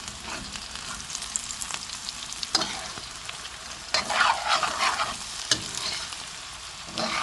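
Crispy fried aloo (potato) pieces sizzle steadily in a pan, with a few soft scrapes and clatters as they are gently turned; no one speaks.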